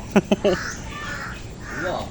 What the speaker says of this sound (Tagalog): Ah, uwak pala yun.